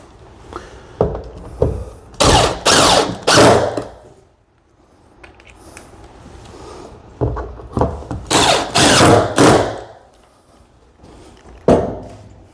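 An impact driver drives motor mount fasteners on an EXACT-SLIDE extended shaft motor, firing in two loud clusters of rapid hammering bursts separated by pauses, with a short final burst near the end.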